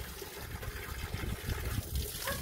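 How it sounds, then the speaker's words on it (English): Water gushes steadily from a garden hose, a continuous rushing splash that holds at an even level throughout. "Jemani, get ready to turn the water off"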